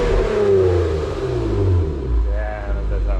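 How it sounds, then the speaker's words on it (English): Car engine with a newly installed exhaust revving up and settling back, a loud close throaty rumble that rises and falls once or twice. "Give it a rev."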